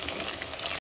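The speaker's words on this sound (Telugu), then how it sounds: "ఉల్లిపాయలు వేగినాయండి. లైట్గా కరివేపాకు వేసుకుందాం." Onions with a little curry leaf frying in a pan, a steady close broadband sizzle for under a second that cuts off abruptly.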